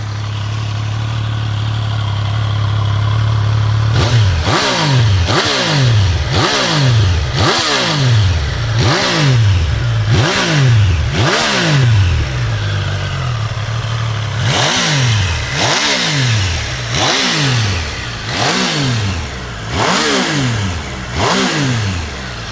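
Triumph Tiger Sport 800 triple engine idling, then a quick run of sharp revs, each blip rising and falling back, followed by a short pause and a second burst of revs. The engine is loud and close, with no voices.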